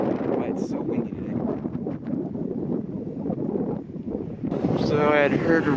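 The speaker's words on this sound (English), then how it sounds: "It's so windy today." Strong wind buffets the microphone at an outdoor stadium construction site, a loud, continuous rumbling roar with gusts that swell louder near the end.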